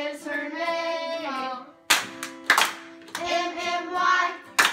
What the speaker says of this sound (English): And how many claps? Two.